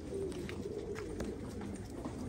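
Female pigeons or doves cooing close by, soft repeated coos over a steady low background with no talking.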